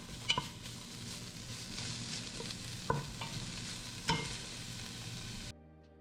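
Chopped bacon frying in a pan at a camp stove, a quiet steady sizzle with a few sharp utensil clicks, then cutting off abruptly near the end.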